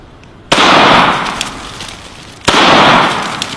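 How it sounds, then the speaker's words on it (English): Two loud, close semi-automatic gunshots from a firearm at a shooting competition crack about two seconds apart, each followed by a long fading echo across the range. "Let's just shoot it in semi-auto today because it's kind of hard on it."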